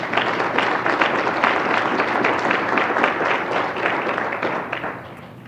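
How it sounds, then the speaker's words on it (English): Audience applause at a civic awards event, a steady burst of many hands clapping, fairly loud and sustained before tapering off at the end. "Let's give them a round of applause."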